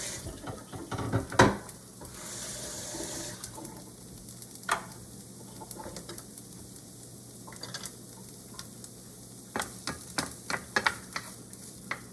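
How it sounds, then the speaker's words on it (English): Onions, garlic and oregano sizzle in a skillet over medium heat. A soft, steady frying hiss is broken by a few sharp clicks of utensils against the pan. "meanwhile in the skillet, heat over medium heat onions, garlic, and oregano."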